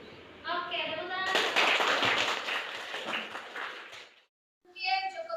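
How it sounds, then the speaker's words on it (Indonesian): Classroom applause from a group of students, a burst of dense clapping that swells for about three seconds, then cuts off, with a voice heard before and after. "Oke, tepuk tangan."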